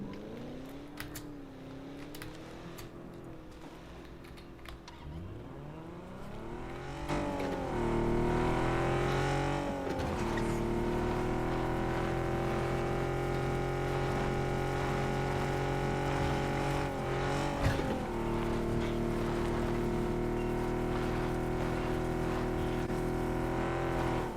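Game car driving in PUBG Battlegrounds: an engine revving and accelerating through rising gear-shift sweeps, then settling into a loud, steady drone with brief bumps and knocks.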